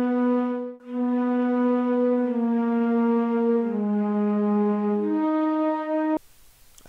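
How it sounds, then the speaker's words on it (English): A smooth, sustained flute melody from the Sonatina Orchestra sample library glides through a few held notes, clear and alone, before cutting off at the end. "I then decided to add a flute as a top layer"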